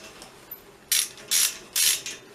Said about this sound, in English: I'm just going to undo the bolts